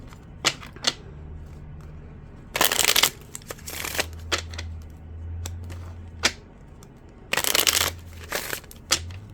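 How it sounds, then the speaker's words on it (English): Tarot cards riffled in several quick bursts, with soft taps and slaps of the deck in between, close up and without any talking. "Last shuffle."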